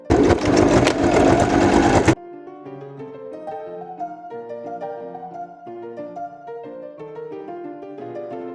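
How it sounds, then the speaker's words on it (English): A sewing machine hums loudly and continuously while stitching webbing onto a quilted makeup bag, then cuts off abruptly after about two seconds, leaving quieter music. "So I'm just gonna quickly cut these, sew them on, assemble bag."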